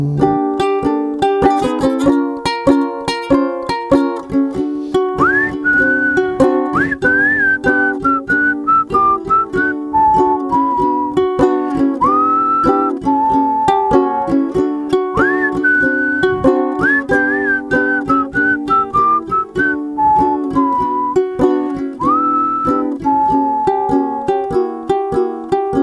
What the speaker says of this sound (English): it takes a confident man to play a small guitar and whistle at the same time